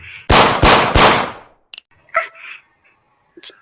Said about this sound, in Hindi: तुमने गोली चलाई, वो मर गए